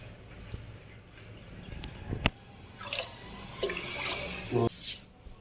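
A little water poured into a jug for homemade butter, heard as scattered drips and small splashes, moderately close and fairly quiet, with a few sharper knocks and no talking.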